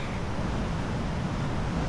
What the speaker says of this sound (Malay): Suasana di sini ombak kuat tu.